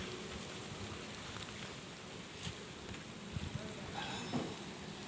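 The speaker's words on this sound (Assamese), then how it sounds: "বৰষুণ পৰি আছে" Steady soft patter of rain falling at a pond in Mangaldai, Assam, a faint continuous hiss with a few slightly louder drops, fairly quiet and even throughout.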